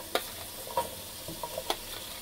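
Onions go into a hot pan for a spicy kachki fish chorchori, giving a faint, low sizzle broken by a few sharp clinks and scrapes of stirring.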